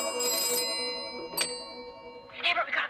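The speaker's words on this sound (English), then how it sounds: "The sequence ends on a ringing phone." A telephone rings twice in a 1950s small-town radio-station setting from the film The Vast of Night, bright electronic bell tones bursting out at the start and again near the end over a murky, faintly rumbling background.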